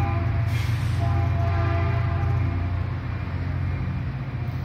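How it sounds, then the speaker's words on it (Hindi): A double-decker local train rumbles past close by in Sunnyvale, USA, a steady low roar with some metallic rattle, holding loud throughout and easing slightly toward the end. "सब लोकल ट्रेन ना डबल डेकर है"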